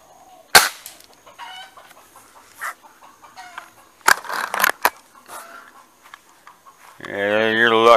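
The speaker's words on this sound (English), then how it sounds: "Oh, I see the rooster though." Chickens and a rooster cluck in scattered bursts around a farmyard with a horse and goat, interspersed with sharp clicks and a longer, loud crowing-like call near the end, with occasional talking in between.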